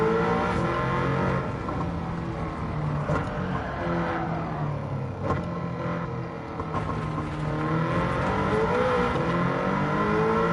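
A swapped Toyota MR2 engine in Gran Turismo 7 drones loud and steady while circling a track, rising and falling with throttle changes and carrying a faint chattering edge, with no talk over it.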